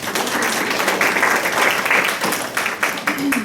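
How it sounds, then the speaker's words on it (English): Conference audience at an occupational and hand therapy society presentation gives a round of applause, many hands clapping in a steady, dense burst that fills the room. "So if you have a round of applause for Shara."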